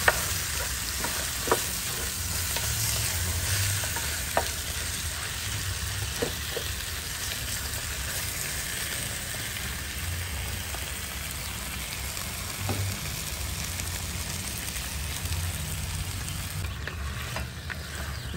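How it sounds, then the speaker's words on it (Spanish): Chopped onion and garlic with salt fry in a pan, a continuous close sizzle with occasional scraping stirs and light clicks of the spoon, steady throughout with no talking. "Lo vamos a revolver muy bien para que el ajo y la cebolla se integren."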